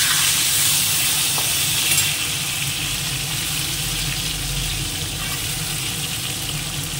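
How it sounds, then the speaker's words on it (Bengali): Mango pieces fry in oil for a pickle, producing a constant close hiss and sizzle that is a little louder at the start, with no voices. "এবার এর মধ্যে আমগুলো দিয়ে দেবো, একটু আগে ভেজে নেব আমগুলো তেলের মধ্যে।"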